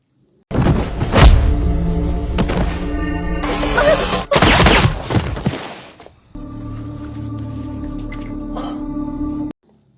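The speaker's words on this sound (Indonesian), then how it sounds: "Maninder berhasil menembak mati Natasha" Gunfire during a fight in an action film scene: loud, dense bursts and crashing impacts for several seconds, then a sharp hit before sustained dramatic music takes over.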